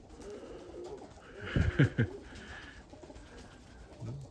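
Budapest and Mykolaiv pigeons coo nearby in a short run of low, throaty pulses around the middle, with faint chirps and outdoor ambience on either side.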